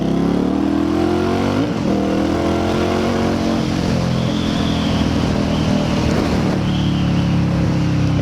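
A Victory Octane motorcycle fitted with an RPW full exhaust rumbles loud and close with a deep, steady engine note throughout, swelling slightly as it revs, heard from a rider's helmet with constant wind noise.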